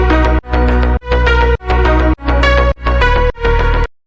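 A song plays as a pre-master at its original pitch: loud, dense synth chords pulse in about seven regular blocks with brief gaps between them, and no voice talks over it.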